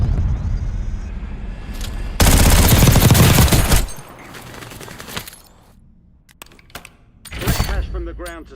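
Video game gunfire in a battle royale match, a dense, loud burst of rapid automatic shots followed by scattered single cracks and another short volley, close up.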